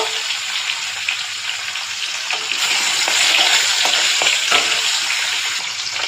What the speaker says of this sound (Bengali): তো দেখো আমি মাছটাকে ভেজে নেব